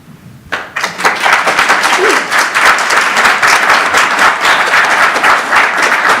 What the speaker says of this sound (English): please hold the applause so we can just keep things moving